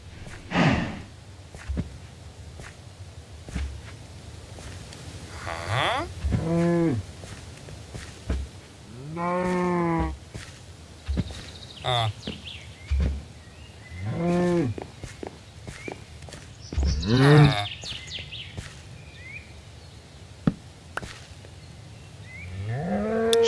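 Minecraft cows mooing on a one-block farm, a series of loud drawn-out moos at irregular intervals with thumps and small clicks between them, near and clear without talk.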